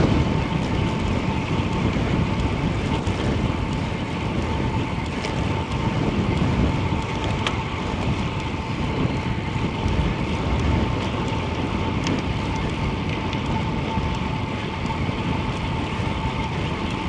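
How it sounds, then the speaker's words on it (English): Strong north wind buffets the microphone during a bike ride on a paved trail in Ohio, a steady loud roar with low rumble that persists throughout with no pauses. "Yeah, I think we got a strong north wind here."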